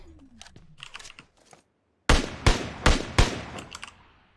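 Gunfire in a shooter video game: after quieter game ambience, four loud, sharp shots ring out about half a second apart, each decaying with a short tail.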